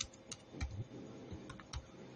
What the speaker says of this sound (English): I'm just typing anything that comes to my head.